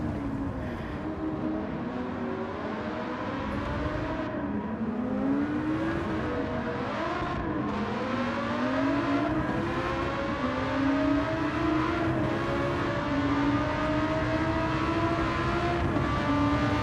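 A supercharged car engine in the Gran Turismo 7 racing game drones and revs continuously, pitch climbing and dipping through gear changes, steady and loud throughout with no talk over it.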